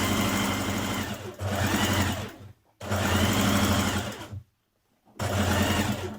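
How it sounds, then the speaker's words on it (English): A sewing machine stitches around the pocket of a maxi skirt in three fast, even runs, each lasting a second or two, separated by short pauses. "I'm machine stitching around my pocket first of all."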